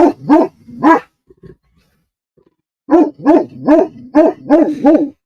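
Puppy barking in repeated sharp bursts, a quick cluster of three, a pause with faint whimpers, then a rapid run of six or seven loud, close barks while guarding against coyotes.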